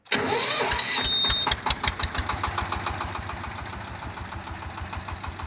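The electric starter of a nosimon, a six-gear, five-ton load vehicle, whirs briefly before the engine catches, then settles into a steady, rhythmic idle close by.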